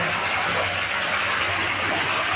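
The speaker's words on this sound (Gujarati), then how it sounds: "મિત્રો ફૂલ પાણી આવી ગયું છે" Water gushes hard and steadily from a borewell pipe, a loud, continuous rushing splash up close.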